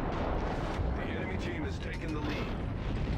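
Naval gunfire and explosions in World of Warships during a close-range firefight with a Yubari cruiser, a dense, rumbling barrage of booms and impacts rolling continuously while someone talks over it.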